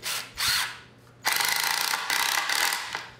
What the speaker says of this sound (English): And this obviously is a ratcheting drill,